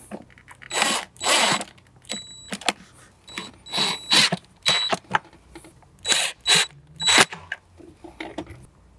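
A cordless screwdriver drives Phillips head screws back into a Jeep Wrangler JK speaker pod in several short bursts of whirring, with clicks and rustling handling noises between them, close and fairly loud.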